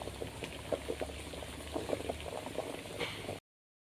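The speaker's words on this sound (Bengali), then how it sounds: "আলুগুলো সিদ্ধ হতে থাক" Potatoes for aloo paratha bubble in a pot of boiling water, a steady, fairly quiet stream of small pops and gurgles that runs continuously before cutting off abruptly at the end.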